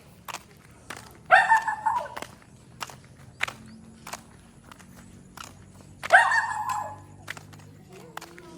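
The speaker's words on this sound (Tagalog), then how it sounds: "Kakainis ng mga aso minsan matatapang ba?" Two bursts of dog barking a few seconds apart, fairly close, with footsteps and light scuffing sounds in between.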